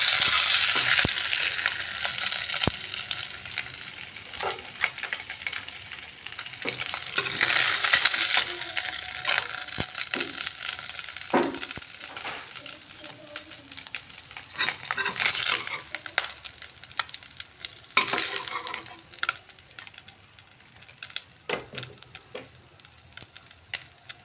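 Rohu fish pieces frying in oil, a bright continuous sizzle with scattered metallic clinks and scrapes of a spatula turning them, close by and without voices.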